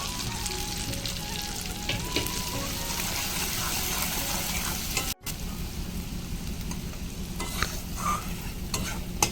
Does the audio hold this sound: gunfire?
no